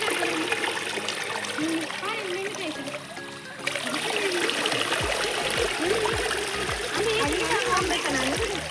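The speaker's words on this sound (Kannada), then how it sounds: "ಎಷ್ಟು ನೀರುಂಟು ನೋಡಿ ಜಲಪಾತ ತರ ನೀರು ಬರ್ತಾ ಉಂಟು" Rushing water of a small waterfall during the rainy season splashes and pours continuously nearby while children and adults chatter over it.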